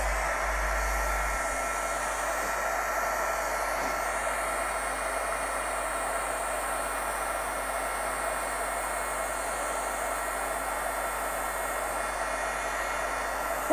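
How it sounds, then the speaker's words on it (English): Heat tool blowing hot air for embossing on a stamped card, a steady close whooshing hiss that runs without letup, even and fairly loud throughout. "I've got my heat tool here"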